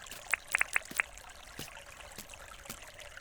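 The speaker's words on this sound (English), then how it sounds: "Let's actually get some water in." Water poured in the Dinkum video game, with a few quick bright splashy drips early on, then a soft steady trickle running underneath, fairly quiet.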